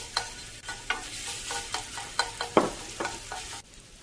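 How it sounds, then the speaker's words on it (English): Garlic sizzles in olive oil in a large saucepan, a close hiss broken by rhythmic scraping strokes of a utensil about every half second, then settling into a softer fry. Nobody talks. "Drop the garlic into the oil."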